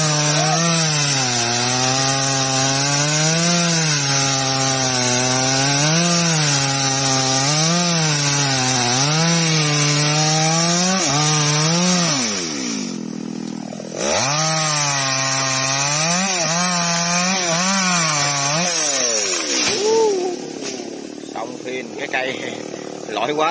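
A chainsaw cuts through a large golden wattle acacia tree in a mountain area, its engine droning loud and close with rising and falling revs. It cuts out briefly, then roars again before the tree falls.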